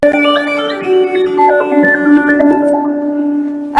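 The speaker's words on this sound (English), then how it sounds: "the first one is a phase shifter" A violin run through a phase shifter pedal plays a stepping, descending then wandering melodic line with strong harmonics, loud and continuous for a few seconds, with no voices.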